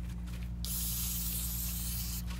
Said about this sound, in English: Spraying all that down.